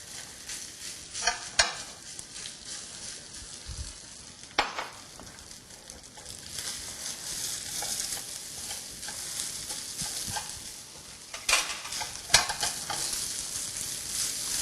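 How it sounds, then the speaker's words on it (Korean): Rice stir-fries in a pan for kimchi fried rice, giving a soft continuous sizzle broken by several sharp clacks and scrapes of a utensil against the pan, up close and without speech. "이제 여기에 밥을 집어넣고 볶아주세요"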